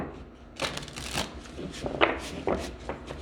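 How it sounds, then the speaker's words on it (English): Cards are shuffled close up in several quick riffling bursts, crisp flutters separated by short pauses. "Let me shuffle one more time."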